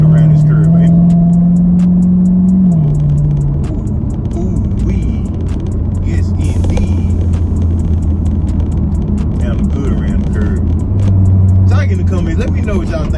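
A Corvette Stingray rumbles steadily through a curve, its engine note shifting in pitch as it takes the bend, heard from inside the car with someone talking over it.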